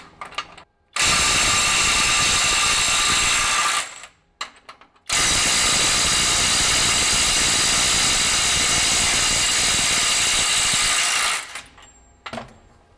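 A FLEX 24V compact impact wrench in reverse breaks free smaller fasteners rated 450 and 500 foot-pounds, two long loud bursts of rapid hammering separated by short pauses, close and alone.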